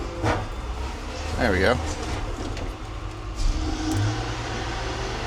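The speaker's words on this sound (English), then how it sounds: "So here it is, going in the crusher" A homemade trailer being pushed into a car crusher by a forklift, a steady loud engine drone with rumbling and a brief creaking squeal, while someone talks over it.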